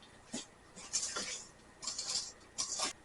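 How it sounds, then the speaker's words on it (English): Muffin batter being mixed, wet ingredients folded into dry with a utensil scraping and clinking against a bowl, four short quiet bursts of stirring with pauses between. "we add the wet ingredients to the dry ingredients. And you just want to mix it just until the flour is mixed in"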